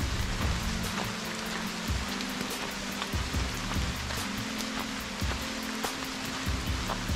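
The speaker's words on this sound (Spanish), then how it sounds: "Con la lluvia total, las gotas de la lluvia" Steady rain patters densely on hard surfaces at a temple nearby, with occasional heavier drops tapping through a constant hiss.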